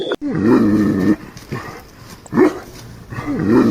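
Anatolian Shepherd dogs growling and snarling at a wolf close up in repeated rough bursts, with brief pauses between them.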